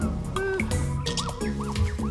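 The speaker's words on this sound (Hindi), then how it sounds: "ये तो बस पक्षी है।" Cartoon bird chirps ring out in a jungle setting, short bright rising-and-falling calls repeated several times over a bed of background music.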